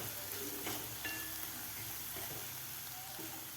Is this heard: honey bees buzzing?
no